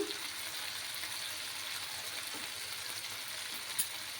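Ginger, four or five garlic cloves and green chili paste frying in a pan as part of a fish-head curry, making a soft, low, steady sizzle with one small clink near the end.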